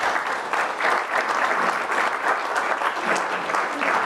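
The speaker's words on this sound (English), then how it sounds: "And might give Barbara a big round of applause." Audience applause at a Cherokee Nation tribal council meeting, a continuous, full round of many people clapping, steady and fairly close for about four seconds, with no voices on top.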